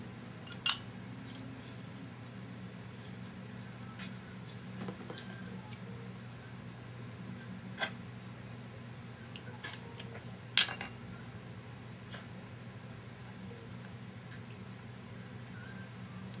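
Clay pieces being cut out by hand for a scrapbooking layout made with Martha Stewart clay molds: a few sparse, sharp snips or clicks over a quiet, steady low hum, with no talking.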